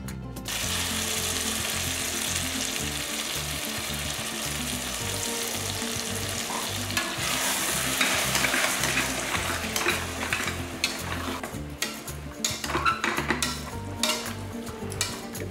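A ground paste of onion, coconut and tomato sautéing in a hot pan, with a constant loud sizzle and a ladle scraping and clattering against the pan, growing busier toward the end.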